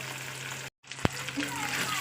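Fish frying in a pan gives a continuous moderate sizzle, briefly cut by a gap, then a sharp clack and faint splatter as the frying carries on.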